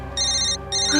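A phone rings with a bright electronic tone in two short bursts separated by a brief gap, fairly prominent over a low background hum.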